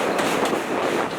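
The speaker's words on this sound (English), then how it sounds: "I think I'm going faster than the train now." A New York City subway train rumbles steadily and loudly nearby, a dense continuous roar with faint rhythmic clacks throughout.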